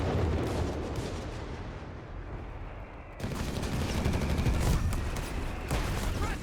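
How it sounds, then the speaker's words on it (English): Artillery fire rumbles in Company of Heroes 3, a dense, continuous barrage of booms and crackling shots in a desert-map multiplayer battle, swelling louder after a brief dip. "We got more artillery firing down death here from above."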